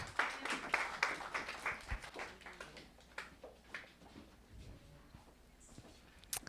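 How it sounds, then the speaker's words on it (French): A church congregation clapping in scattered, uneven bursts that thin out and fade, faint and somewhat distant, with no voices over it. "On peut les applaudir"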